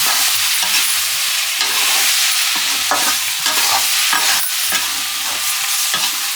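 Radish kalonji frying in a pan is stirred with a spatula in repeated scraping strokes about once a second over a constant loud sizzle, close up with no voices.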